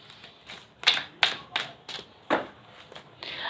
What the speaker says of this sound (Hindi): कार्ड मैंने ऑलरेडी शफल किए हुए थे, बट फिर भी आप लोगों की संतुष्टि के लिए मैं फिर से कार्ड्स को शफल कर लूँ।